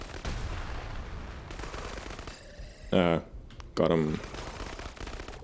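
Gunfire at enemies in the game Krankenheit comes as two short rapid bursts of shots, loud and close, over a busy game background while someone talks.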